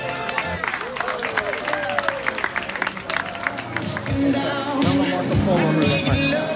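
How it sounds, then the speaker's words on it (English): Wedding guests clap and cheer for the newly married couple, a dense burst of applause rising louder in the second half, with crowd voices and a speaking voice over it. "give him a hand."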